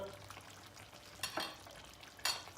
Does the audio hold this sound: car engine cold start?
no